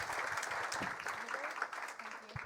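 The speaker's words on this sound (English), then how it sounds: "So I will ask everyone to give a big applause to Niamh Smith, Minister." A room full of people at an AI summit claps steadily for a couple of seconds, the applause fairly close and unbroken, with no clear voices over it.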